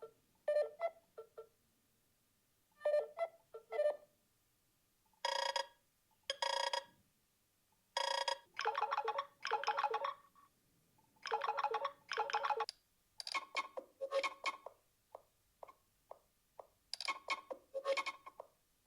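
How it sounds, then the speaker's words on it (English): A series of short electronic ringtones from a Nothing phone plays in separate bursts of chimes and beeps, each pattern different, separated by brief silences, clear and close. "a bunch of new animations for the lights along with ringtones, which sound like this"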